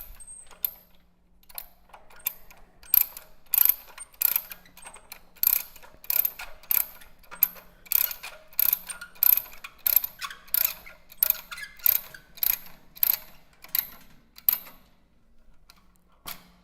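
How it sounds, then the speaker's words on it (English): A ratchet tensioner is cranked up in a steady run of sharp metallic clicks, about one per second, building and then thinning toward the end, close and clear with no talk. "Now we're going to do the ratchet up to take up the tension."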